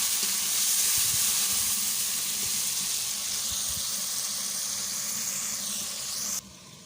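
Masala frying over high heat in a hot pan after a splash of water, a steady loud hiss and sizzle that eases slightly before cutting off abruptly near the end.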